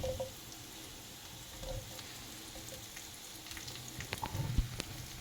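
Blood sausage frying in a pan with golden onions gives a quiet, steady sizzle that runs the whole time, with a few soft clinks and stirring sounds near the end.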